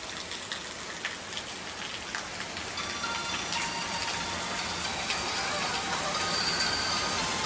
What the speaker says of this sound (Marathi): मस्त असा पाऊस आलेला आहे कडक कडक पाऊस